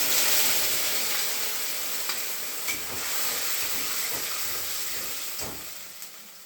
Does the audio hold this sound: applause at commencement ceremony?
no